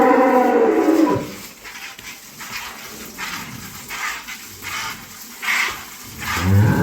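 Dairy cows mooing at a farm selling improved-breed milk cows and calves, a low drawn-out moo at the start followed by quieter, softer lowing and farm noise.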